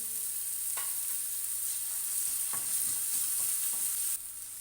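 Onions sizzle steadily in a hot pan, a soft continuous hiss broken by a few faint clicks and scrapes of stirring.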